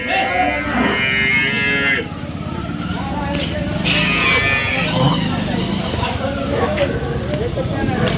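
Water buffalo lowing close by at a buffalo market in Dhule, Maharashtra, a couple of long moos standing out over background chatter and murmuring voices.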